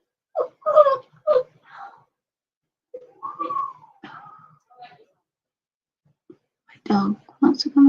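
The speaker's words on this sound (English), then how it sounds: "dog wants to come in." A dog whines and moans outside wanting to come in, in short high-pitched bursts separated by pauses, fairly close, with louder whimpering toward the end.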